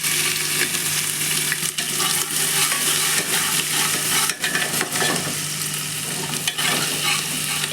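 Garlic-ginger paste frying in hot oil with popped cumin seeds, a loud, dense, continuous sizzle with occasional stirring scrapes close by; no talking.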